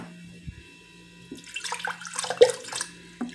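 A drink is poured at a home dinner, a short close liquid stream splashing into a glass after a quiet start, with a few clinks and handling noises.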